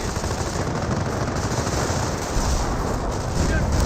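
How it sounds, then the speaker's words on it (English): A Wurfrahmen rocket barrage in Company of Heroes: a continuous, loud wall of rumbling explosions and crackling impacts that never lets up, with no clear gap between blasts. "Here comes a Warfman barrage somewhere."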